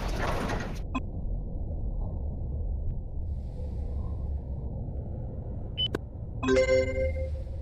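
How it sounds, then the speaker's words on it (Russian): Train doors on an Em-501/Ema-502 electric train in the Trainz 12 game thud shut over a low rumbling hum, followed by short tonal chimes. "Осторожно! Двери закрываются."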